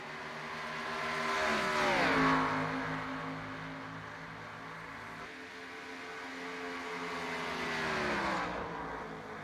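Stock cars in the iRacing Grand National Series at Homestead roar around the oval, engine pitch swelling as one car nears and fades, then a second rising pass follows; no talk.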